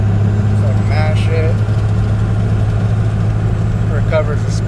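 A 12-valve Cummins diesel towing about 22,000 pounds drones steadily under heavy load up a hill, a constant low rumble throughout, while a voice talks briefly over it.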